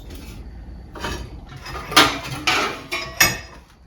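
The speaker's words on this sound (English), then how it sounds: "Let's try and knock this kink out here." Several sharp metallic strikes ring out as a hammer knocks a kink out of a run-over battery charger's metal, about four to five blows spaced roughly half a second apart, close by with a brief clanging ring after each.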